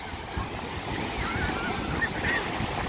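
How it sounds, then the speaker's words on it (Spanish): Strong ocean waves breaking on a beach, a steady loud roar of surf with wind noise over the microphone, continuous and close, with no speech. "Miren ustedes qué fuerte las olas."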